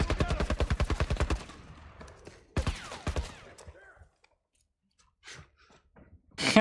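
Enemy gunfire in The Last of Us Part 1, a quick rattling burst of automatic shots up front, another short volley a moment later, then scattered faint shots and clicks trailing into near silence.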